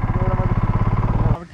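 A motorcycle engine on a mountain road near Swargadwari, Pyuthan, chugs close by in a fast, even, throbbing rhythm, then cuts off abruptly near the end.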